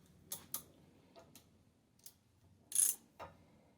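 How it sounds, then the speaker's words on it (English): A hand ratchet clicks during work on the side curtains of a Frogeye (Bugeye) Sprite build: sparse, irregular, sharp ticks spread across a quiet room, with one louder, longer rasp near the end. "I can use the ratchet to give me some leverage"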